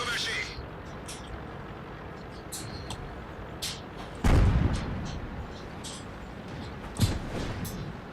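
Artillery fire in the World of Tanks video game: a few heavy booms, the loudest near 4.3 s and another near 7 s, rising out of a steady engine rumble and scattered small bursts of gunfire.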